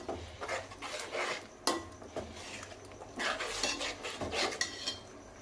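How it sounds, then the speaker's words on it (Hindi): Biryani masala with yogurt is stir-fried over a low flame, with repeated scraping and clanking of a spoon against the pot over a soft sizzle, close and continuous. "अब इसको अच्छी तरह से लो फ्लेम पे ही भूनूंगी मैं।"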